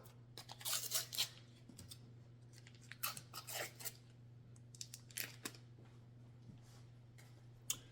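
Snips of kitchen scissors cutting something open while making buttermilk cornbread muffins, a few crisp cuts early and scattered clicks after over a steady low hum.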